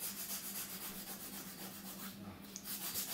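A nail file works over a gel nail during a decorative polygel French manicure, a soft close rhythmic scraping of quick strokes, faint and steady without talk.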